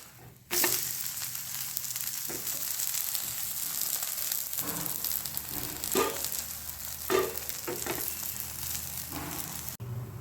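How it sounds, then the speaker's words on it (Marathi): Thalipeeth flatbread fries in oil on a pan with a steady close sizzle and a few louder crackling bursts, and nobody speaks. "थालीपीठ हे मी दोन्ही बाजूने शेकून घेतले"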